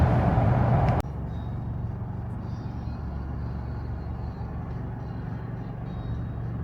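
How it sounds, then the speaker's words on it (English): Traffic outside a mall in Kenya forms a continuous low rumble of many cars and heavier vehicles, steady and moderately distant, after a brief louder burst at the start, with no talking. "There are so many vehicles here"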